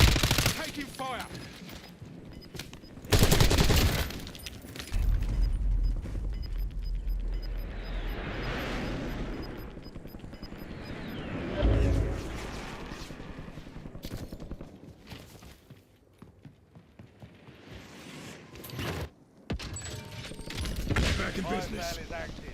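Bursts of rapid automatic gunfire and single shots in a video game firefight, loud and close, coming in several clusters with explosion-like booms and ongoing battle noise between them.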